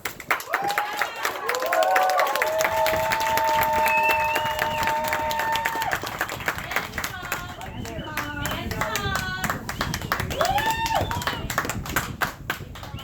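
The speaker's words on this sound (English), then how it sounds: "a round of applause to my dad" Guests at an awards ceremony give a round of applause for the speaker's father, a crowd clapping steadily for several seconds. Voices talk and call out over it, and the clapping thins toward the end.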